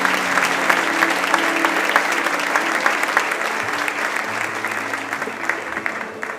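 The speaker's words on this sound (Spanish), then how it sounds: "Le damos un fuerte aplauso a nuestro Dios grande y poderoso." A church congregation breaks into loud sustained applause during worship, dense clapping filling the room with some voices and a low musical tone running beneath.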